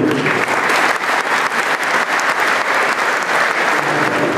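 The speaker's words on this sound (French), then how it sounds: "je pense qu'on peut l'applaudir" Audience at a business club evening in Marseille applauds warmly for a presenter, steady continuous clapping at even loudness lasting several seconds.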